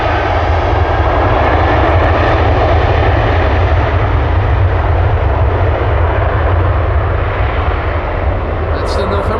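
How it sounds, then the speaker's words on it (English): Delta Airlines jet, Flight 91 to Orlando, taking off from Amsterdam Schiphol Airport, a loud, continuous, close engine roar that holds steady and unbroken the whole time. "fire in the hole, Delta Airlines Flight 91 to Orlando"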